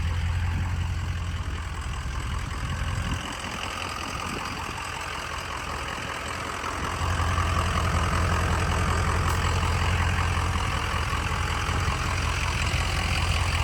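A 2003 Ford F250 Lariat with a 6.0 Powerstroke diesel and an aftermarket muffler idles close by, a steady low rumble with a clattering edge that dips briefly and returns louder.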